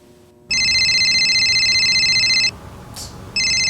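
A phone ringtone trills loud and close in two long electronic bursts with a short gap between them. A faint shuffle comes in the pause.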